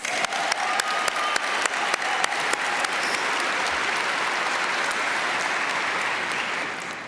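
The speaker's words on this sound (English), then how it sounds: "Can we give them another round of applause?" A graduation audience for the Trinity Hall class of 2025 breaks into applause, with a few sharp individual claps at the start growing into a full, steady ovation that fades slightly at the close.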